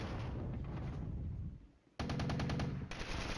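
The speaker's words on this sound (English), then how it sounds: "they're catching the wrath of the Soviet artillery" Soviet artillery fire in the war game Flashpoint Campaigns Red Storm sounds as a rapid rattling barrage, which breaks off briefly and then resumes in a dense burst of repeated reports.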